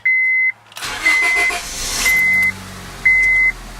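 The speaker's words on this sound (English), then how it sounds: "So I'm going to go ahead and start the car here." A Honda Civic engine cranks and starts, turning over with a roar that settles into a steady idle, while a repeating warning beep chimes at intervals over the engine.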